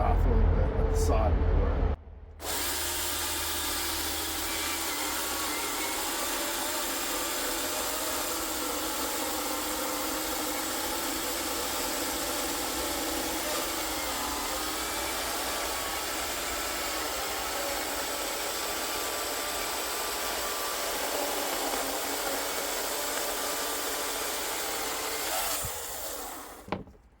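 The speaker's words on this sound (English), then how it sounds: "Trying to cut too aggressively and back off a little bit with the saw." Husqvarna 372XP chainsaw with a C83 X-Cut full-comp chain on a 24-inch bar cutting through wood, a loud steady high-revving roar that holds for about 25 seconds after a brief start, with voices faint beneath it.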